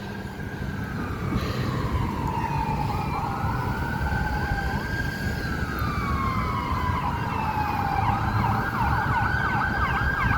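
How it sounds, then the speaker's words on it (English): An ambulance siren wails in long rising and falling sweeps as it approaches a city intersection, loud and steady over a constant rumble of nearby traffic. "she's got a red light and there's a fucking ambulance coming"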